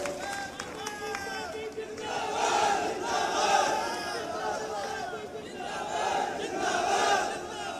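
A large crowd at a Bhagwant Mann political rally in Madhya Pradesh roars and cheers in swelling waves, dense and sustained, with shouting voices massed together throughout.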